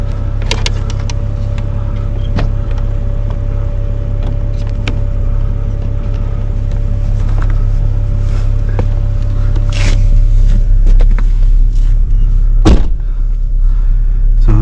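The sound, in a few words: electric winch pulling a vehicle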